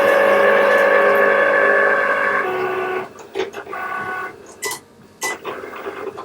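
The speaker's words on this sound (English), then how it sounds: "I'm running it through my cutting machine, my Cricut cutting machine" A Cricut cutting machine slices vinyl on a 12 by 24 mat, giving a steady mechanical whir and hum that gives way to intermittent short motor bursts and clicks, up close and with no talk.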